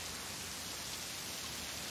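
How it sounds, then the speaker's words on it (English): Rain falling steadily, a soft, even hiss of drops with no breaks or voices, fairly quiet and constant throughout. "Like bananas, all this rain."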